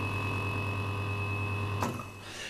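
A la.va V.300 professional vacuum sealer sealing a bag, giving a steady close mechanical hum that stops sharply near the end with a brief click, then near quiet.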